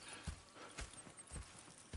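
Horses in the video game Red Dead Redemption 2, with soft, irregular hoof clip-clops and faint movement at a quiet, distant level, no talk.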